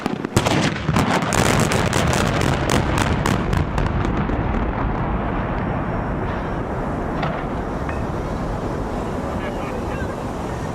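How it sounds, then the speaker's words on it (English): Demolition implosion of the Pontiac Silverdome stadium: a rapid burst of sharp blasts in the first seconds, then a broad, roaring rumble that slowly fades, heard from a distance outdoors. "Here's the sound of the implosion without any commentary."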